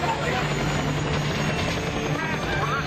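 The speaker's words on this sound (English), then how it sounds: "His chopper, hit by enemy artillery," A military helicopter in flight over the mountains of South Vietnam, on fire and losing power after an enemy artillery hit, gives a loud continuous rotor and engine roar throughout, with a steady low drone.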